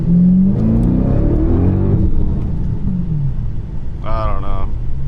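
A Whipple-supercharged 426 Hemi in a car, held in second gear with poor low-speed throttle, rumbles and surges in pitch as it revs, loud and close, with a brief higher whine near the end.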